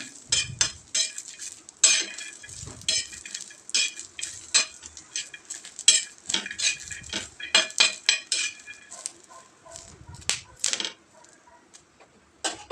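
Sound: dry-roasting green chillies, garlic and raw peanuts on a griddle

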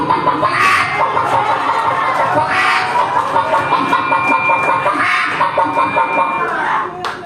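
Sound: person imitating a hen clucking

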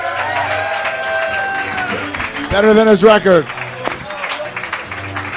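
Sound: audience applause for roast battle challenger

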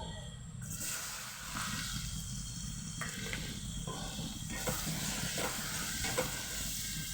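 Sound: frying chopped onions with cumin in a pan

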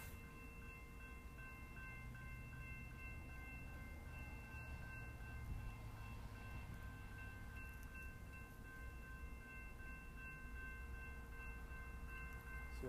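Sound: BNSF freight train passing at the depot

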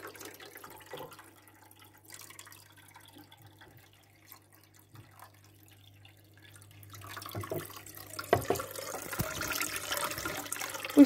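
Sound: water flowing while draining aquarium water

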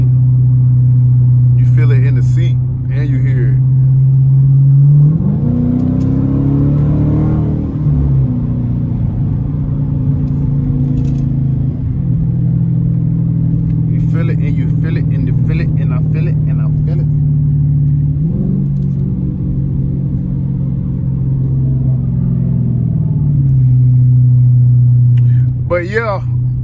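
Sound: catless car exhaust rumbling and popping while accelerating

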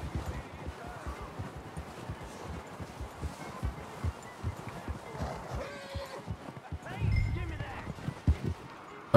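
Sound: horse hooves in video game Red Dead Redemption 2

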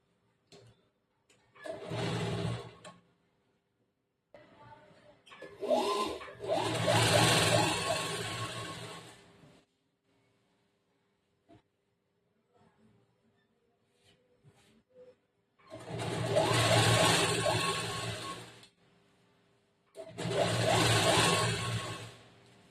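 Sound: sewing machine stitching blouse

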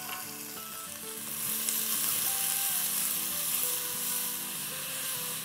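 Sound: red bell pepper being sautéed

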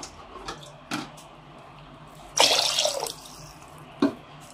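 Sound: water poured over chicken in a pot for harees

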